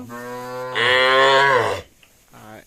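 Calves gathered from various cattle markets low at a farm in Pirojpur: a long, loud, drawn-out moo close by, framed by shorter, quieter calls before and after.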